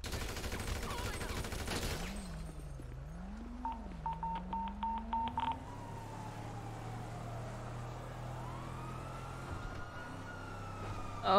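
A wailing police siren rises and falls during a chase in the video game GTA, heard steadily under game sounds, with a burst of telephone-dialing beeps partway through.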